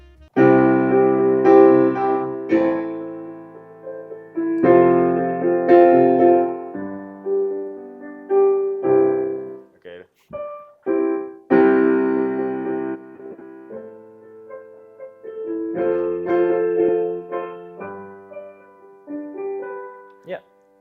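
Piano chords and melody alternate between hard, loud passages and quieter, gentler stretches, with short pauses between phrases and no voices.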